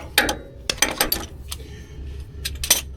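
A wrench works a bolt and nut during engine removal, with uneven metallic clicks and clanks that come in short clusters over a low background rumble.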